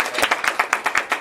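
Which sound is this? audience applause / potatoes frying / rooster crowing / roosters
audience applause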